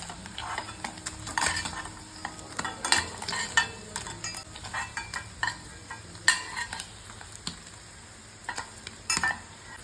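Paneer pieces frying in hot oil for a Hyderabadi paneer masala, giving a steady close sizzle broken by repeated stirring scrapes and light clinks of a utensil against the pan.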